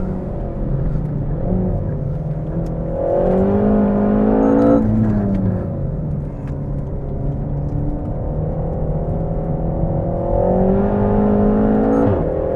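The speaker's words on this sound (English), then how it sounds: "It sounds good for a standard exhaust. Popping and banging away on the gear changes." A 300 bhp RenaultSport Megane Trophy with a standard exhaust driven hard on a racetrack, the engine revving up and dropping through gear changes, loud and close from inside the car with faint crackles between shifts.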